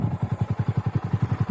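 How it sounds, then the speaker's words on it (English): Engine of a modified 2023 Honda Monkey motorcycle fitted with a Yoshimura RS3 full exhaust, short intake and flashed ECU, chugging at a low idle in a steady rapid pulse, close and loud, with no talk. "today we're gonna do a top speed test with the modified 2023 Honda Monkey"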